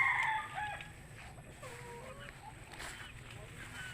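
Chickens cluck softly inside a netted coop at feeding time, faint and scattered over a low background hum, while a person talks nearby.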